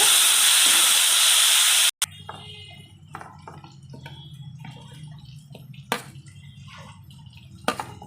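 Tomatoes frying in hot oil for a Telugu dry fish curry (netthaala pulusu): a loud, bright sizzle opens, then drops to a quieter steady crackle broken by a few sharp pops and spatters.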